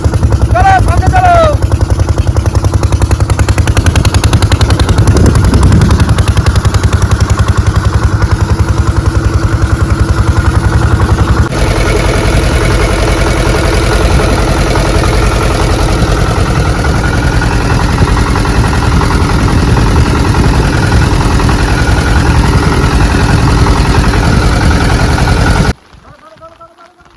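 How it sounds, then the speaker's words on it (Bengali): A small fishing boat's engine running just after starting, a loud, close, steady mechanical drone with rattling clatter throughout, cutting off abruptly near the end. "আমাদের বোট স্টার্টটা হয়ে গেছে"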